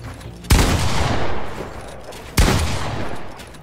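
Gunfire in the video game Fortnite during a box fight: two loud, sharp bursts of shots, each trailing into a long rumbling decay, close and dominant with no talk.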